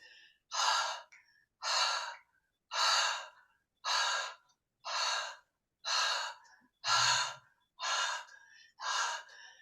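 Deep rhythmic breathing during a guided breathwork session, nine strong breath bursts at an even pace about one per second, close and loud with silent gaps between.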